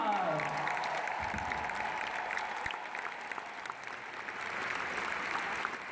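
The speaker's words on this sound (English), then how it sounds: "give them a huge round of applause" Concert audience in Uncasville, Connecticut applauds the local string section of a show, a dense, steady wash of clapping and crowd noise lasting throughout, fairly loud and close with a voice faintly present at the start.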